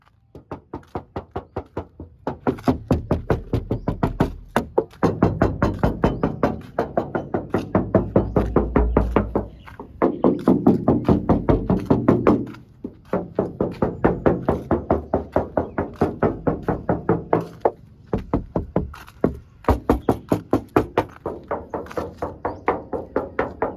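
Knuckles rap repeatedly on the metal body of a red-engine Nissan Big M pickup truck with a curved dash, giving loud, close knocks in quick bursts with short pauses between them.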